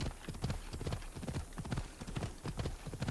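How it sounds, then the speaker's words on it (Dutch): Horse hooves in Assassin's Creed Odyssey clop steadily as the mount walks with an awkward gait, with loud, close, evenly repeating hoofbeats and no talking. "Het paard blijft een onhandige loper."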